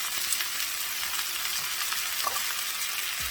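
Bacon frying in a pan gives a steady, dense sizzle with crackling pops throughout, fairly close and with no voices over it.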